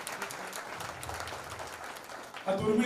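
An audience claps for a singer at a song launch event, a dense, even patter of applause, with a voice starting to speak near the end.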